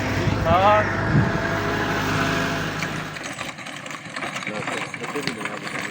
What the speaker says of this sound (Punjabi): ਮੋਟਰਸਾਈਕਲ ਅੱਗੂ ਆ ਗਿਆ ਰੁਕ ਗਿਆ